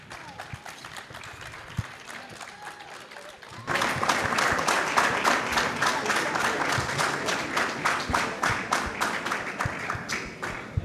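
Audience at Kampala Impact Day applauds, with scattered claps at first and then a sudden swell into dense, sustained clapping that stays strong, full and close, with no talk over it.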